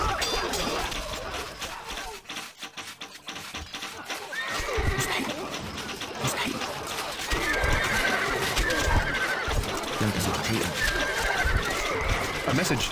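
Horses whinny repeatedly in the Stronghold Crusader desert mission, shrill neighs rising over galloping hoof clatter, game music and voiced lines, with a loud, busy battlefield mix throughout.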